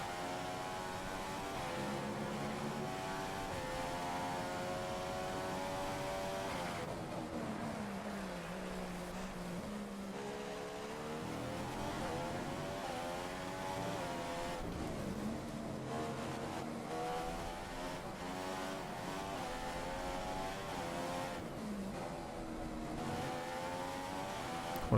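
F1 2015 race cars on the Spain circuit, a continuous engine whine rising and falling in pitch as cars run down the straight, a distant car passing under the player's own steady engine drone.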